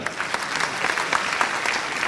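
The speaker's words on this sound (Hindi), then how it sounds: "एक बार पूरे मंच के लिए जोरदार तालियां" Audience at a state foundation day event applauds the stage: dense, loud, steady clapping from a large crowd, continuous throughout.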